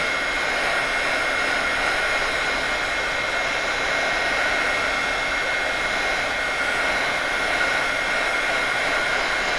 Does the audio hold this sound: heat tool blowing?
yes